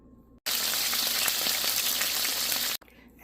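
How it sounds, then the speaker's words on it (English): Loud, steady sizzling of chicken thighs frying in hot oil, starting abruptly and cutting off after a couple of seconds, close and crackling. "Now let's get them to frying."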